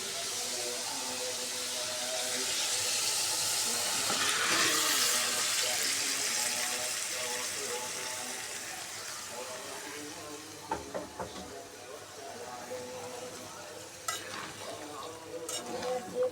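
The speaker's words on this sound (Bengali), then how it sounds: "এখন আমি মাংসগুলো দিয়ে দেব। মাংসগুলো ম্যারিনেট করে রেখেছিলাম" Marinated beef frying in a large wok, sizzling loudly and steadily, then fading as the meat is stirred, with clattering scrapes of the spoon toward the end.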